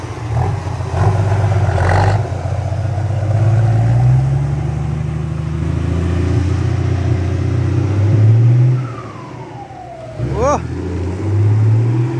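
An old car with a loud, howling exhaust revs repeatedly, rising and falling engine swells up close with a sharp rev burst near the end.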